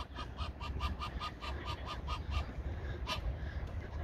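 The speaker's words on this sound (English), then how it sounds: "There's two geese." A pair of geese on a lake in Nuremberg honk in a steady rhythmic series, a little distant, over a constant low rumble of background noise, with one louder honk near the end.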